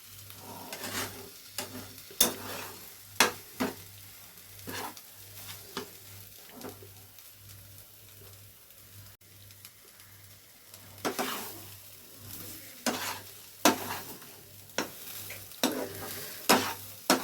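A utensil repeatedly stirs and scrapes mashed cabbage bhorta in a pan, sharp rhythmic scrapes and clinks coming in bursts over a soft sizzle and a steady low hum, with no talking.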